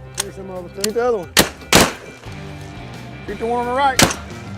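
Three loud, sharp shotgun blasts fired at ducks crack out between stretches of people talking and calling to each other.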